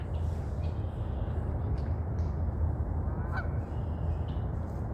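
Geese honk repeatedly over a steady low rumble of wind or distant traffic at a lakeside nature preserve in the morning, the calls moderately close and continuous throughout.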